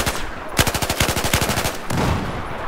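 An M249 light machine gun in Battlefield 4 fires a rapid, even burst of about fifteen loud, close shots, followed by a brief rougher blast of noise.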